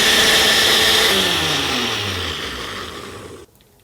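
An electric blender grinding apple with anchovy fish sauce and salted shrimp, a loud whirring motor whose pitch sinks as it runs before cutting off abruptly near the end, close up.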